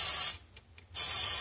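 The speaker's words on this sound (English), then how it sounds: "this has got avocado oil in it. And I am going to spray" Avocado oil cooking spray in two loud hissing bursts from a can, with a short pause between them, close and dry, and no talking.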